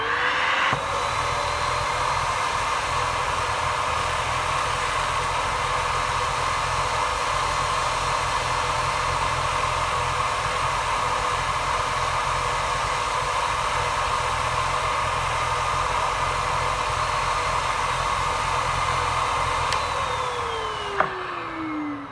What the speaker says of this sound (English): Now that that symphony of a vacuum cleaner is done